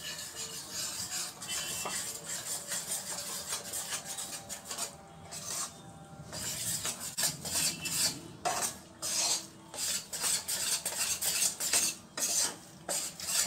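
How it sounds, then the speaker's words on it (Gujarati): Coarse gram flour being stirred and roasted in melted ghee over low heat, a steady scraping, rasping stir of a spoon against the pan with soft metallic clinks, continuous and close with no voices. "લોટને આપણે એકદમ ધીમા તાપે સરસ શેકી લેવાનો છે."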